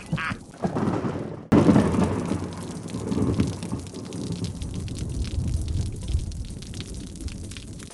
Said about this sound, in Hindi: बारिश सिर्फ हमारे घर पर ही हो रही है